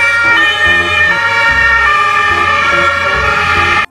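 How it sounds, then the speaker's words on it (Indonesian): Toy ambulance siren wailing loudly and continuously in a close, steady electronic two-tone pattern, alone with no talk, cutting off abruptly at the end. "Wow, mobil ambulan."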